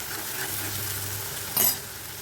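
Ground chutney with curry leaves is sautéed in a pan, giving a soft, continuous sizzle with a brief stir-like scrape near the end, heard alone.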